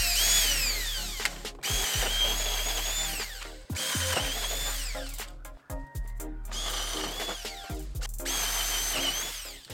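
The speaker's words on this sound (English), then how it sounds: "we're just going to drill some holes in here for the ratchet straps to go on" A power drill whines loudly in repeated bursts, spinning up and biting through wood to drill several holes, with short pauses between holes.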